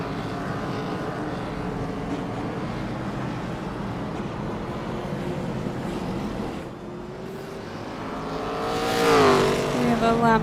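Race cars in a grassroots racing series drive around the track under pace-car conditions, making a steady engine drone that swells louder near the end as a car passes close by.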